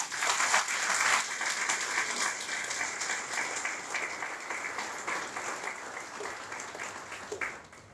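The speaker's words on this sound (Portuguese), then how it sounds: "para elas peço uma salva de palmas." An audience at a Portuguese-language school's 50th anniversary celebration in Australia applauds former students, with steady, sustained clapping from a crowd that swells early and then continues evenly to the end.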